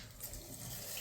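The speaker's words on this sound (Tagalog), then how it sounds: "Lakas ng tubig." Water gushing hard from a tap in a campsite shower room, a steady close broadband rush with no voices.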